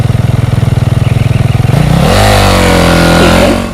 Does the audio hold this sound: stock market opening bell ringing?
no